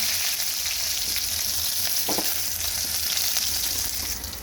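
Dry red chillies, garlic and five-spice seeds fry in oil in a wok, giving a loud, dense, continuous sizzle with a brief clink partway through.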